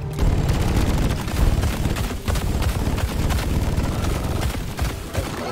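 Double-barrel shotgun blasts in the video game Deep Rock Galactic, a dense run of loud, booming shots packed together amid heavy combat noise with no pauses.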